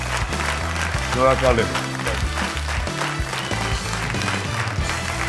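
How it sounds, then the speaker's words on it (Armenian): Studio audience applauding a child singer on the Armenian TV show Little Big Shots: continuous clapping that fills the whole stretch under a host's spoken thanks. "Եվ այս բարձր ծափայություններով ճանապարհենք"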